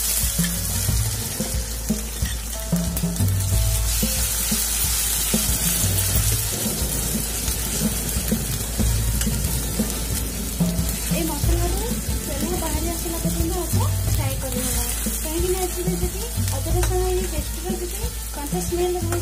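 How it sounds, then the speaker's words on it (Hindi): Onions fry in a pan until golden brown while cooking an Odia masala dish, giving a continuous crackling sizzle with occasional stirring and clatter throughout. "पियाज को गोल्डन ब्राउन होला पर्यंत भाजी"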